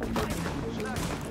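Bursts of gunfire from The Division beta, played in co-op on PS4, crack in quick succession over a dense game soundscape, with someone speaking partly over the shots.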